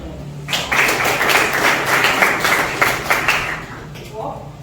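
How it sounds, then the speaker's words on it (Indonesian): A class of students claps together during a science lesson on Archimedes' principle, a moderate, even patter of many hands lasting a few seconds before it fades out. "Tepuk tangan."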